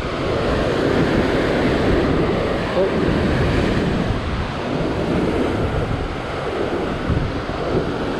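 Ocean swell breaks at a sea fishing spot near Sydney, Australia, as a steady, loud roar of surf mixed with heavy wind buffeting the microphone.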